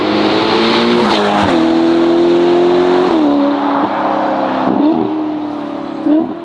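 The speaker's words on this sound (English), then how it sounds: "This car is raucously loud." A loud car with quad exhaust tips revs hard and alone at close range, its raucous engine note climbing and dropping in several sharp bursts before a final blip.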